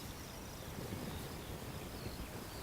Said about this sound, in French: d'être ici parmi les mouches qui bourdonnent